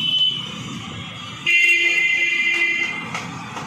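A newly fitted motorcycle horn sounds in short toots, then holds a sustained, slightly buzzy honk close by, with a faint engine hum underneath.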